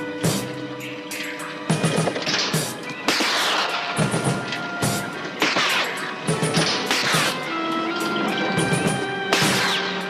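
Shooter firing in a television crime drama: a series of sharp, loud gunshot cracks at irregular intervals, mixed with crashing impacts and background noise.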